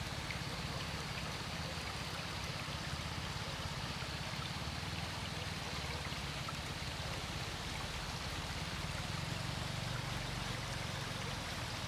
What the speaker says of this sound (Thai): น้ำไหลลงมาจากภูเขานะครับ